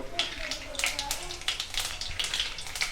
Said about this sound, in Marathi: त्याचबरोबर गरम तेलामध्ये आपण टाकूया सर्वात पहिले मोहरी